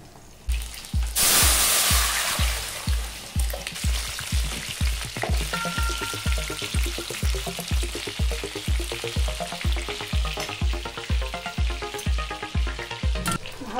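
Vegetables frying in a pan, with steady loud sizzling broken by regular rhythmic clacks of stirring throughout, no voices.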